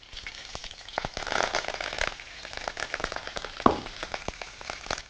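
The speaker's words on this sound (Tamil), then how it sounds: "எண்ணெய் சூடானோடனே இதில் உளுத்தம்பருப்பு கடுகு போட்டு தாளிச்சிடும்." Curry leaves, urad dal and mustard seeds sizzle in hot oil as tempering, a soft, fast crackle of scattered pops and spits close by, with one sharper pop midway.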